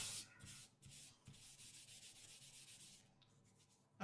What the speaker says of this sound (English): I'm going to take my embossing buddy